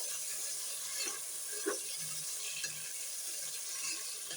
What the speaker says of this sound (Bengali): এখন মাংস দিয়ে দিচ্ছি।